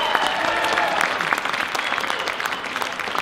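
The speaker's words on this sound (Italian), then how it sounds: "un applauso ancora, ma bello, forte" Festival audience applauding a Michael Jackson tribute saxophone performer, a dense, steady wash of clapping from a large crowd that holds loud throughout.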